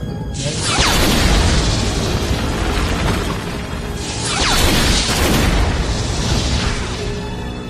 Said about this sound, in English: The movie kicks off immediately with a mountain just exploding out of nowhere.